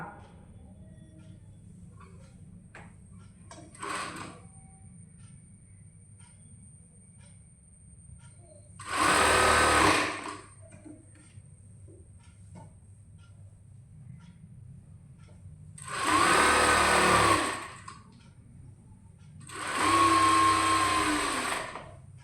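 A sewing machine runs in three short, steady bursts while stitching the crotch seam of a child's pants, with quiet gaps between the bursts and no talk.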